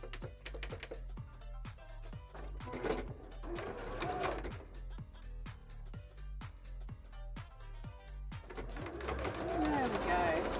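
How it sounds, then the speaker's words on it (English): A sewing machine stitches over a foam-lined bra cup, its rapid mechanical clatter running in steady bursts with brief pauses, close and fairly loud. "So I'm sewing over the cup right now"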